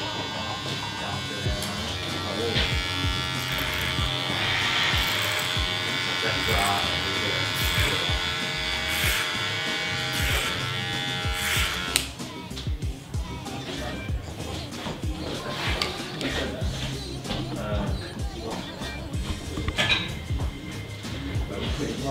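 Electric hair clippers buzz continuously close by while cutting hair using the clipper-over-comb technique in a barbering lesson, the steady drone changing tone as the blades bite, with someone talking over it.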